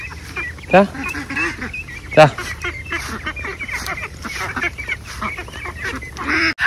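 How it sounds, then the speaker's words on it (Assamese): A flock of ducks quacking and honking nearby, with scattered calls over a busy background and a few louder squawks standing out. "সৰু হাঁহ ডাঙৰ হাঁহ গোটেই হাঁহখিনিকে ইয়াতে আনি ভৰাই থলো"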